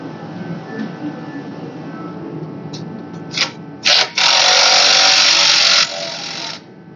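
Power tool whirring in short bursts then a sustained loud run while removing a clamp near the starter of an LBZ Duramax diesel engine, close to the microphone.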